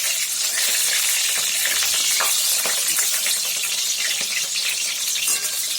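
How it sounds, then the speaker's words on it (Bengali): Battered amudi fish frying in hot oil, a loud, dense crackling sizzle that stays steady throughout with bursts of bubbling spatter. "মাছগুলোকে এই আমুদি মাছগুলোকে ফ্রাই করছি।"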